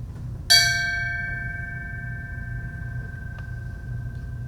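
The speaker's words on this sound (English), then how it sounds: "Let us now toll the bell once in dedication to all the firefighters, EMTs, police officers" A memorial bell at a Patriot Day ceremony is tolled once, a single bright clang that rings out and decays slowly over several seconds above a low, quiet room hum.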